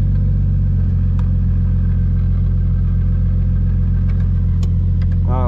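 Car engine running steadily at constant revs during drifting, loud and close, ending with a brief rising tonal squeal or whine.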